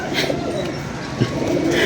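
Pigeons cooing softly and intermittently in a loft kept by a pigeon keeper, with faint low-pitched background sounds throughout and a brief thump near the middle.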